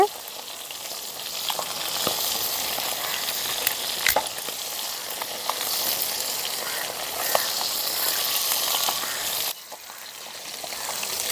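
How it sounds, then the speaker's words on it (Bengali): Bata fish fries in a pan on the stove, a continuous dense crackling sizzle with scattered sharp pops, steady throughout and briefly dipping near the end, with no talk over it. "ওদিকে কিন্তু মাছটাও ভাজা হচ্ছে"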